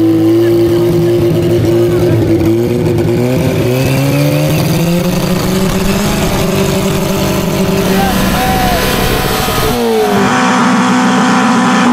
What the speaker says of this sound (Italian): È il motore della Panda.